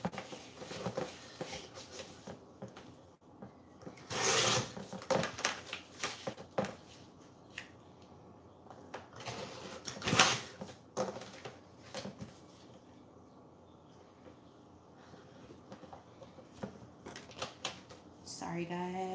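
Paper postcards being trimmed down to size, giving sharp, intermittent cutting and snipping noises with a few louder bursts, heard fairly close in a quiet room with some handling sounds and no talking.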